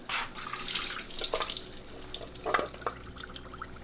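Liquid drains from a can into a kitchen sink as brownies are prepared, with close splashing and trickling and a few louder gurgles and spatters over a steady background.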